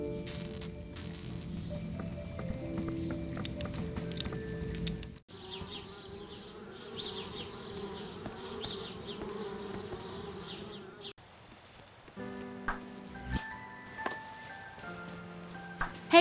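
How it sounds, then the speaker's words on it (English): Bees buzz steadily around a treehouse in the point-and-click adventure game Anna's Quest, a continuous insect drone shifting across several scenes, with game music and no talking. "Darn bees, trying to move into our treehouse."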